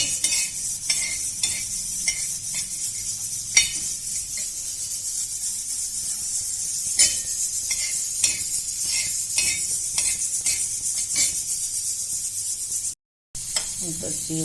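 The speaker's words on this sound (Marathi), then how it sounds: "चला तर मग आता माझे धने भाजूया" Coriander seeds dry roasting in a pan, stirred with a spoon, give a continuous close rattling scrape with repeated sharp clinks against the metal and a faint sizzle, and one brief dropout near the end.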